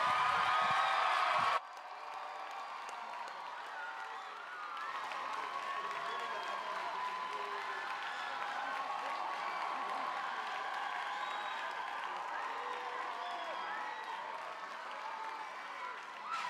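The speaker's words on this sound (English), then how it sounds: "give a warm round of applause for Father Mike Schmitz" An audience in a large room bursts into warm applause and cheering for a Catholic priest taking the stage, a loud sustained wash of clapping with whoops, briefly dipping then holding steady throughout.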